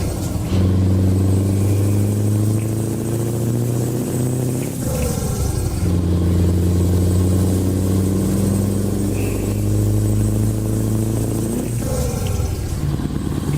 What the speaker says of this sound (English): So listen to my gearbox.